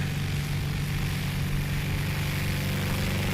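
A STOL airplane at full power on takeoff during practice for a short-takeoff-and-landing competition: a loud, steady propeller and engine drone that holds for several seconds at close range.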